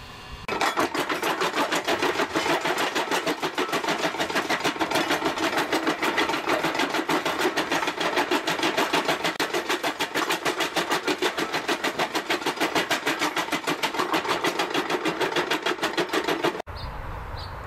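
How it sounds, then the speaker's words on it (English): A newly acquired 6x10-inch jaw crusher grinds gold and silver ore samples in a loud, steady mechanical clatter with rapid rhythmic knocking, running continuously close by and easing slightly at the very end. "we're just going to use our 6x10-inch jaw crusher we just got"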